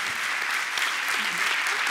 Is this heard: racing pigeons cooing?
no